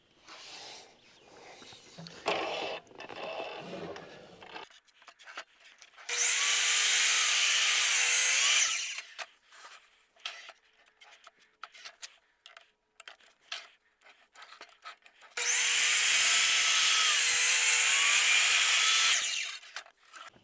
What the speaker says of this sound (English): I'm going to switch the saw over to 47 degrees because it's 90 degrees from 43 where we started, and cut my treads